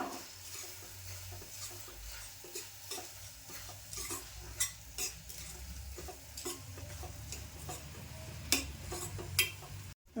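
A spoon works through a grated coconut and jaggery mixture in a pan with soft, repeated scraping strokes and faint sizzling, close and fairly quiet, with no talking.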